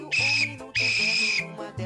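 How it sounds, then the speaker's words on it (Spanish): A referee's final whistle ends a football match: two long, shrill blasts, the second held longer, with faint low background noise beneath. "vamos terminando con el silbato final que nos indica que se acaba este partido"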